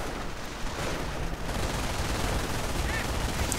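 Dense, continuous automatic gunfire from a machine-gun team firing at a barn in a WWII strategy game, a steady loud rattle running the whole time with booming battle noise mixed in.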